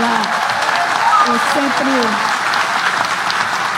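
Loud applause for Governor Camilo Santana fills a PDT party event, a steady wash of clapping crowd that carries on while someone speaks over it.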